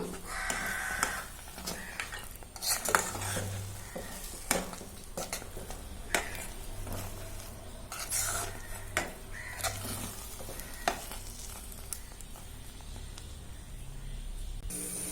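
Banana sweet mixture is stirred with ghee in a pan, giving soft scraping and light sizzling close by, under a crow cawing repeatedly in the background, with no voices.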